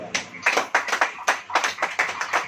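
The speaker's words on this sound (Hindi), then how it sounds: "ताली हो जाएगी।" A church congregation claps during a sermon, sharp rhythmic hand claps sounding in a quick, uneven beat, fairly close and with no talk over them.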